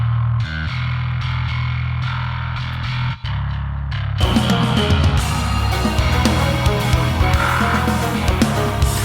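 Electric bass played through an amp simulator built from stock plugins with its distortion section engaged, a thick, buzzing, fuzzy tone that sustains low notes, then opens into a brighter, denser distorted passage, loud and alone.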